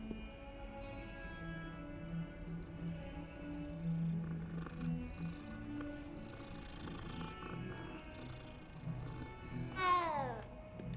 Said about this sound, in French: Oh, un petit minou.